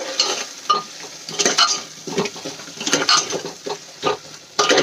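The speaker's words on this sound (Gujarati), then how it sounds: "ડુંગળી એડ કરીને આપણે એને સરસ રીતે ગ્રેવીમાં મિક્સ કરી લઈશું" Onion sautés in a masala gravy while a spoon stirs it, loud close scraping and sizzling in irregular bursts, with no talking.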